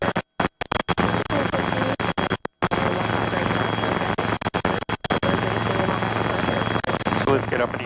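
Robinson R22 helicopter during a training flight, its rotor and engine drone steady and loud throughout with brief cutouts, voices speaking over it.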